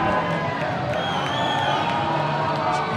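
College hockey crowd in an arena jeering and chanting at a player sent to the penalty box, a dense sustained roar of many voices with whoops over steady commentary.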